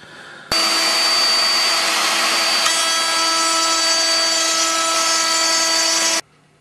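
A power tool cuts a groove down the mating face of a wooden board for a loose-tongue joint, starting abruptly, whining at a steady loud pitch for about six seconds, then stopping.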